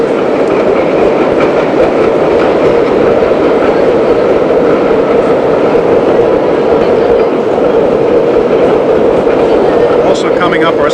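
A New York subway train crosses a bridge, a loud continuous roar of wheels on track with steady clickety-clack, a faint squeal near the end, and a voice talking over it.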